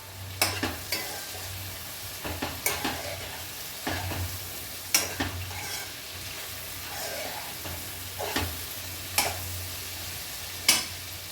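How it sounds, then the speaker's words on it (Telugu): Sorrel leaves and brinjal curry fry in a pan with a continuous low sizzle, broken by repeated scraping and tapping strokes of a stirring spoon at irregular intervals, close up with no talk. "ఈ చుక్క కూర వేసేసుకుందాము"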